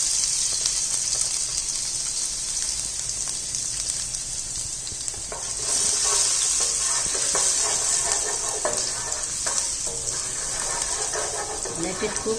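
Garlic sizzling in three tablespoons of hot oil, a bright continuous frying hiss with a surge partway through, while a person talks over it.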